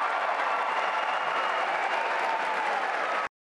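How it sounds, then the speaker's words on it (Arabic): Dense, steady applause from a large audience of university students, loud and continuous before cutting off abruptly. "وسط تصفيق من الطلاب الحاضرين"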